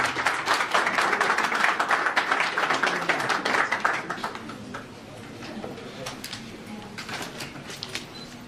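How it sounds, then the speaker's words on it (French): Audience applause at a press conference, a dense loud burst of clapping for about four seconds that thins into scattered claps. "Merci d'applaudir encore."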